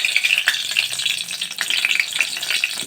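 Curry leaves sizzle and crackle in hot oil as a tempering for a Nagar-style urad dal amti, a steady close frying hiss with small popping bursts throughout.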